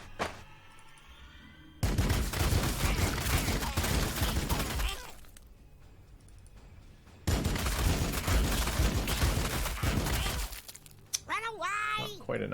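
Gunfire in the Warhammer 40k Sanctus Reach video game comes in two loud, dense volleys of crackling shots separated by a quieter pause. A voice speaks near the start and again over the end.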